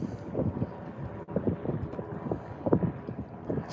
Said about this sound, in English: That wind is killing me.